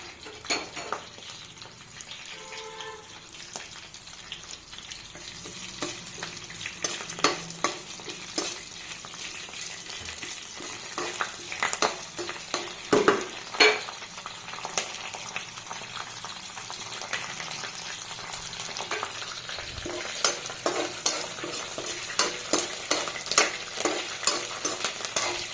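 Tempering spices sizzle and fry in a pan for raw mango pulihora, with curry leaves going in next; a steady crackling sizzle with clinks of stirring runs throughout, close and unbroken by talk.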